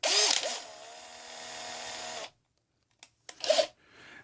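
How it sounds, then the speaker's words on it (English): A power drill whirs steadily for about two seconds against a hard-boiled egg's shell, then stops; brief grinding and scraping noises follow after a pause. "That's what I'm going to do. Let's try the drill."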